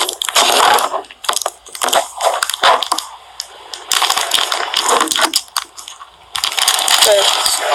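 Crunchy fries being bitten and chewed close up, a run of loud crisp crunches in bursts with brief pauses between bites.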